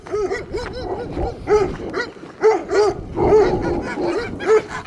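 Several stray dogs bark repeatedly in overlapping bursts, loud and close, with a few higher yips mixed in.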